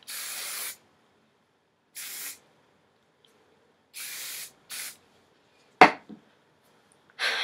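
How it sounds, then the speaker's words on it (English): Hairspray is lightly sprayed onto freshly wand-curled hair in several short hissing bursts separated by silence, ending with a sharp clatter and one last spray. "Now I'm going to lightly spray."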